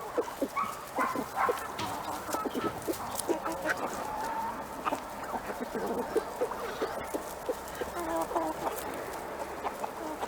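Backyard chickens cluck continuously while pecking at eggshells, with busy overlapping calls and sharp pecking taps; a dog barks faintly somewhere in the background.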